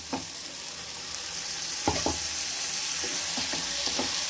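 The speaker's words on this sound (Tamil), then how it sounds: "தக்காளியும் போட்டு நல்லா வதங்க விடணும்" Ground tomato sautés with onions in a pan for a soya chunk gravy, a soft continuous sizzle with a few brief spatula scrapes and knocks, close and fairly quiet, no speech.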